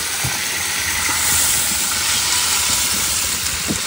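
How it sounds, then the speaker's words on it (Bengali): Steady hissing, bubbling boil of fish curry broth in a pan, a continuous close rush with faint pops throughout and no voices. "ঝোল ফুটে গেছে, এবার মাছগুলো দিয়ে দেবো।"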